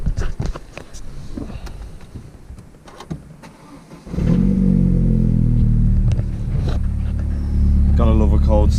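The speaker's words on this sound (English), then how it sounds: "Gotta love a cold start, gotta love it." A Vauxhall VXR is cold-started: after quiet shuffling, the starter catches and the engine bursts into a loud, close, high rumbling idle that holds steady, with a voice talking over it near the end.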